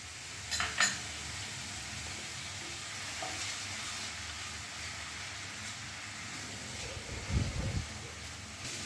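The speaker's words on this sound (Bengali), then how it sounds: "কড়াইয়ের মশলাটা আরও 2 মিনিট মতো কষিয়ে নিয়েছি" Onion, green chilli paste and ginger-garlic paste sautéing in a wok, a continuous low sizzle with a couple of metallic spoon scrapes and clinks against the pan, no speech.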